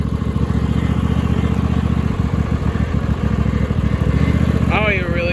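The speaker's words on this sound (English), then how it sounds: "I don't even really care that the motor doesn't run great. I mean, I'm just driving, I'm cruising around." A Cub Cadet lawn tractor fitted with a 26 hp Briggs engine runs loud and steady close by, a throbbing rough-running drone, with a brief voice near the end.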